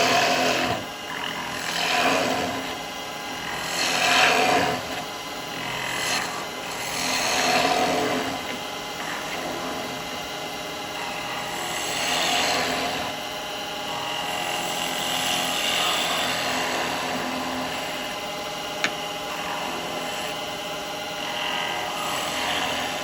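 Woodturning tool cutting seasoned wood on a lathe while shaping a miniature cowboy hat: a steady, fairly loud broadband scraping hiss that swells and eases several times, with no talking.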